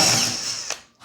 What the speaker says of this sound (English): And drill just a little ways in there, maybe like a 1/4 inch.